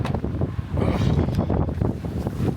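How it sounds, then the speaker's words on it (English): Strong wind on a mountain in Southern Nevada, gusting and buffeting the microphone in loud, rough, uneven bursts of low rumble. "it wouldn't be half bad outside if this wind wasn't just hauling ass"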